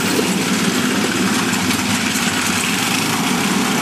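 A lawn mower engine runs steadily and loudly up close with the throttle raised, a constant dense mechanical drone and rattle with no pauses or talk.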